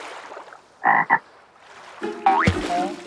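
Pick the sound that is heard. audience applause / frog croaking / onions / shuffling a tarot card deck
frog croaking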